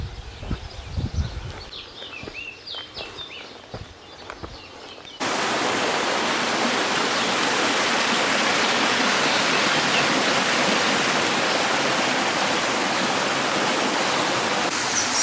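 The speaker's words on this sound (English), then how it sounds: "I'm now going to go looking for a waterfalls." A waterfall near Ponta Delgada in the Azores roars as a dense, continuous rush of falling water that swells up loud and steady after a few quieter seconds with faint bird calls.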